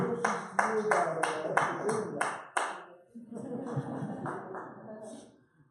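A short burst of scattered hand clapping from a small crowd, fading quickly as a voice starts talking over the tail end.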